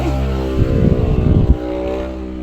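A motorcycle engine runs close by with a steady low drone, briefly roughening and swelling midway as it passes, then settling back to an even hum; no voices.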